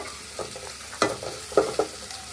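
Prawns frying with ginger garlic paste and salt for a Bangladeshi prawn and taro recipe, a soft steady sizzle broken by a few sharper scraping stirs of the spatula in the pan, with no talking.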